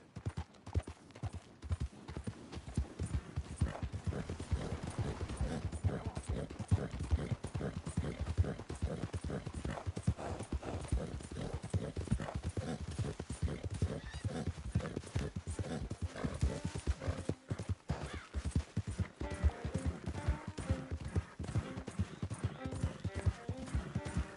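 Horse hooves clip-clop in a steady walking rhythm throughout in the video game Red Dead Redemption 2, close and continuous, with a faint whinny and occasional voices in the background.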